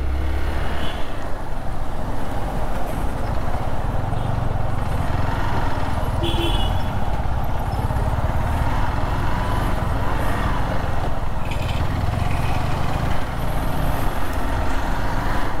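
A motorbike ridden along a road, its engine drone and rushing wind noise holding steady and loud throughout, with no talking.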